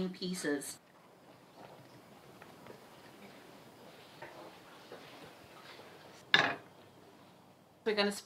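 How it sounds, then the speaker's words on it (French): A knife cuts rhubarb into small pieces with faint, regular taps on a board. Brief talking comes at the start and end, with a sharper clatter near the close. "La prochaine étape consiste à couper la rhubarbe en petits morceaux."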